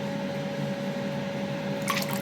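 Warm water poured from a cup into a bowl of egg in a home kitchen makes a brief, soft liquid splash near the end, set against a steady low background hum.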